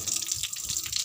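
Tap water runs steadily and close by as feet are washed, a soft continuous splashing stream with no one talking over it.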